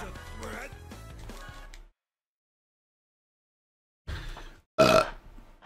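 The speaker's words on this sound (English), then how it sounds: "I just burped up some frickin' tea." A burp during a Crash Team Racing Nitro-Fueled game session on PS4, short and loud, following talk and a silent gap, with a voice coming back right after.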